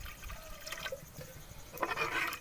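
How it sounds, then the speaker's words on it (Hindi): Water trickles and splashes into a pot of simmering kadhi (curry with pakora) in a home kitchen, a short close pour with gurgling that swells toward the end. "पानी थोड़ा और डाल देते हैं।"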